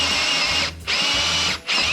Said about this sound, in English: I'm just gonna drill a 3/4 inch hole through the sill plate that goes into my basement right about here